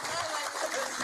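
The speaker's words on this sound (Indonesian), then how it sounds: "Tepuk tangan." An audience at a political speech event gives a short burst of steady, dense applause, with no voices heard.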